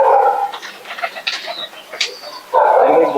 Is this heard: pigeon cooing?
yes